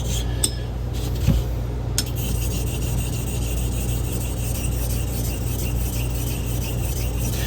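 A straight razor is stroked back and forth on a Washita natural whetstone to set its bevel, giving a steady, close, continuous rasping scrape with a couple of faint clicks near the start.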